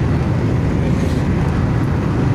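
Inside a moving car, a loud, steady low road and engine rumble fills the cabin with no change in pace or pitch.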